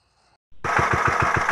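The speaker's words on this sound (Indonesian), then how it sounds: "Jadi ini adalah mesin yang kita gunakan untuk nyemprot." Motorized pesticide sprayer engine, used for spraying crops, starting up abruptly after a near-silent moment and then running with a steady rapid chugging pulse, close and loud with no talk.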